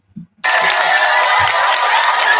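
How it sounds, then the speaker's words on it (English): A podcast studio audience bursts into applause and cheering after a brief low sound, with loud, dense clapping and shouts continuing steadily. "Round of applause."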